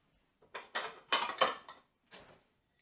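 A bowl handled in a home kitchen, set down and shifted: a few close, sharp clinks and clatters of crockery in quick succession, then one softer knock after a pause, alone against near silence.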